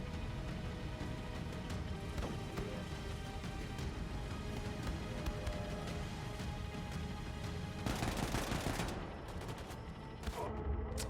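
Wolfenstein 2 firefight with continuous dense gunfire and distant blasts, steady and moderately loud throughout, with a sharper crashing surge near the end.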